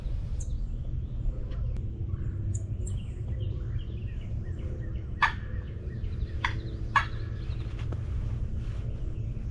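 Wild turkeys, four longbeards with five hens, gobbling at a distance in the open morning air, with several short sharp gobbles scattered over a steady wind-noise background.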